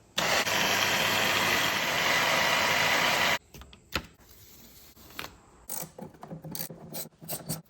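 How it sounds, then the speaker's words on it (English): An ATV winch on a 2005 Arctic Cat 400 4x4 spools out old winch rope with a loud, steady mechanical whir for about three seconds, then stops, followed by scattered rubbing, rattling and handling noises. "the next thing I'm going to do is get this old winch rope out"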